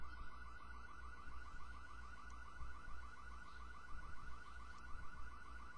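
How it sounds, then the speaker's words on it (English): A car alarm in the video game The Getaway: Black Monday wails on continuously with a rapid warbling tone, steady and moderately loud, over a low rumbling game background with faint thuds. "Oi, don't mind the alarm, it's just there for added effect."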